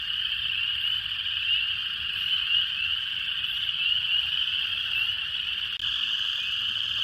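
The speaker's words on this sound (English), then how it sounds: "we got a peeper" A continuous chorus of high, shrill spring peeper frog calls in Missouri, steady and loud, with no talking.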